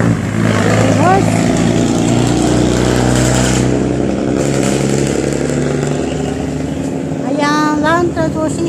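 Motorcycle engines idle and rev outside a Land Transportation Office, a rumbling drone with a brief throttle rise early on and another rising rev near the end, with people talking over the traffic.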